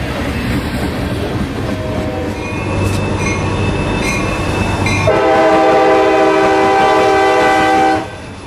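A long ethanol freight train rolls past close by with a loud, steady rumble and clatter of cars, a sustained horn blast over the middle, and wheels squealing in a high whine near the end.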